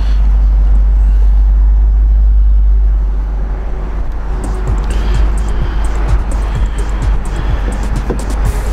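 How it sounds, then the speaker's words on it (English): A 2006 Dodge Magnum SRT8 wagon with the 6.1-litre HEMI V8 produces a steady, deep exhaust rumble close by. A faint clicking texture joins partway through, and no voices are heard. "Definitely sounds nice too with the exhaust."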